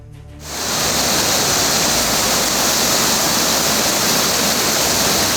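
The swollen Gori river in Pithoragarh, Uttarakhand rushes in a loud, dense, unbroken roar of floodwater that swells in within the first half second and then holds steady, with no voices.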